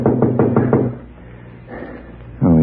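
Knuckles rap on a wooden door as a radio drama sound effect: four quick, loud knocks, a pause, then a voice begins speaking at the end.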